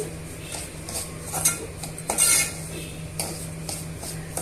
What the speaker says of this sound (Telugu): ఈ రవ్వనంతా కూడా ఈ ఘీలో వేయించుకోవాలి